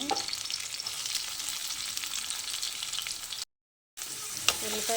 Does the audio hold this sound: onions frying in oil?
yes